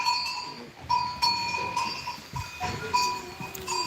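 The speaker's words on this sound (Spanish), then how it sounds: "me voy a llevar yo un atajo de cabras para allí para donde las vacas" A herd of goats, including newborn kids only days old, on a farm in rainy weather, with irregular bleats and a ringing tone rising over steady background noise, fairly close.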